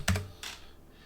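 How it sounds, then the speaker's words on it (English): Brief keystrokes on a computer keyboard, a quick cluster of close clicks followed by one softer tap, with no talking. "Let me just type in Pent."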